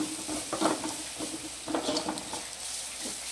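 Food frying in a pan is stirred continuously, giving a soft steady sizzle broken by a few louder scraping strokes, close by and without speech.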